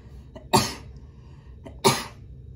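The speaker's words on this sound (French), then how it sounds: "j'avais envie d'éternuer" Two sharp, explosive bursts about a second apart, each a loud broadband spray of breath like a sneeze or cough, with quiet between them.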